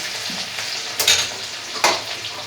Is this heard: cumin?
yes